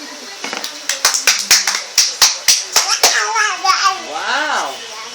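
A small child claps hands in a quick series of about a dozen sharp, close claps, then stops as high childish vocal sounds and an adult voice follow.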